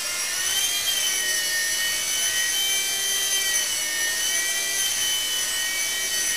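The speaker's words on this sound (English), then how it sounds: "I'm gonna bring the helicopter up here to a hover" A small Blade mSR model helicopter hovers close by, its high-pitched whining rotor and motor holding a steady, continuous buzz throughout.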